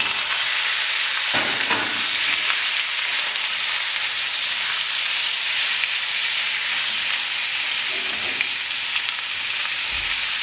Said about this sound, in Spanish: Voy a poner mi carne toda de golpe.